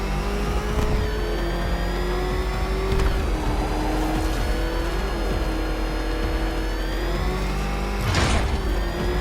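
Batmobile engine in Batman: Arkham Knight, a loud continuous roar that holds steady with small shifts in pitch as it revs, with a brief whooshing burst near the end.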